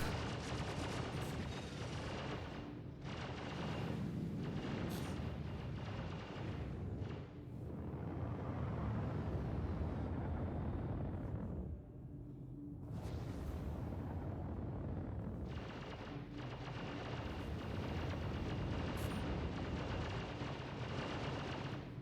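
Dense, near-continuous turret gunfire in the space game Star Citizen, loud bursts hammering almost without pause and briefly easing twice, with no talk over it.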